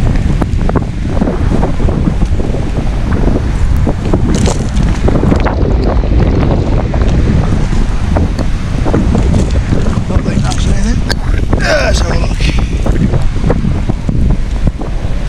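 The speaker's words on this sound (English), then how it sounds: "As you can hear, the wind is quite bad." Strong wind buffets the microphone on a cold beach at Saltwick Bay, Yorkshire, a constant loud roar and rumble with waves and surf faintly beneath, steady for the whole stretch.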